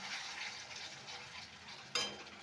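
Ground cumin paste frying with softened tomatoes in a pan for a fish curry with fenugreek, a soft steady sizzle with a brief stir or scrape near the end, fairly quiet and without talk.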